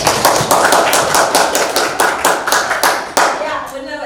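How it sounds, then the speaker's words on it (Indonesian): Rhythmic group clapping during a teaching presentation, loud and close, with sharp unison claps about three per second that keep a steady beat before thinning at the end. "Oh, keren. Kasih tepuk tangan."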